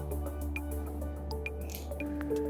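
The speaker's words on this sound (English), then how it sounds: "So now I'm going to use my hands to squeeze the excess water from the cheese." Homemade mozzarella cheese is squeezed by hand to press out excess water, giving quiet, close squelching and scattered drips that continue steadily.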